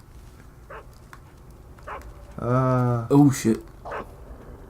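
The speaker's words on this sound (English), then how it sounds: "Literally a horde of dogs behind me." A horde of dogs in the video game Metal Gear Solid 3 gives a few yelping, whining bursts at moderate volume, mixed with a man's speech.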